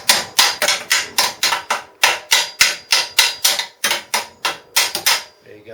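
A hammer strikes a welded steel joint again and again in quick, even blows, about twenty sharp metallic hits close up, then stops, with no talk.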